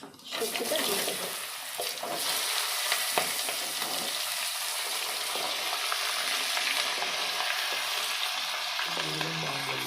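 Vegetables fry in a pan of oil with black cumin seeds for a Bengali fish and vegetable curry, giving a loud, steady, close sizzle that holds without a break from start to finish.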